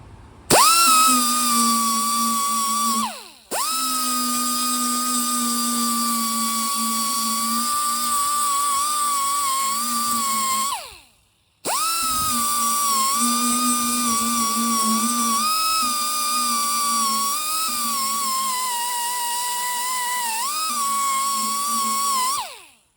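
Angle grinder with an 80 grit disc grinding down welds on a classic car door, a loud, steady high-pitched whine with pitch shifts under load that cuts out briefly twice, with no voices.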